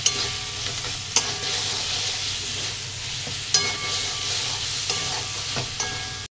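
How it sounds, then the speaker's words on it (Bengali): Soybean masala with turmeric and chili powder is stir-fried in a pan, a constant loud sizzle broken by a few sharp scrapes and clacks of the spatula. "এই সমস্ত কিছু খুব ভালো করে আবারও কষিয়ে নেব"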